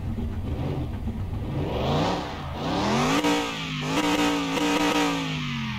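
A 1990 Chevrolet Caprice in Car Mechanic Simulator 2021 cranks and fires up, then its engine revs in rising and falling sweeps before settling into a steady, loud idle close up, with no voices.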